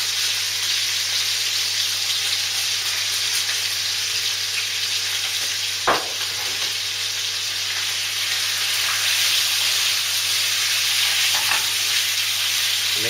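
Meat sizzling in a pan seasoned with sage, salt and pepper, a steady bright crackling hiss that runs continuously, with a couple of sharp clicks or scrapes of a utensil against the pan.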